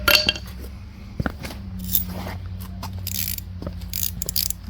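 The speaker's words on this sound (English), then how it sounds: "now we'll tighten up these two set screws" Set screws on a Tecumseh engine fitted to an Ariens rototiller are tightened with a hand tool, giving a few sparse metallic clicks and scrapes over a low steady hum. The sounds are close and quiet.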